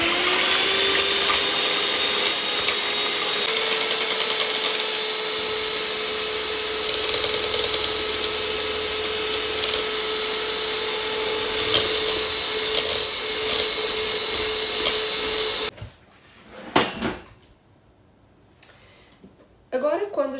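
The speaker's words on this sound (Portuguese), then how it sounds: "eu vou ter que me servir da minha velha batedeira" An old electric hand mixer whirs steadily while beating egg whites with cream of tartar for an angel food cake, a continuous motor whine that cuts off near the end, followed by a few clatters and quiet.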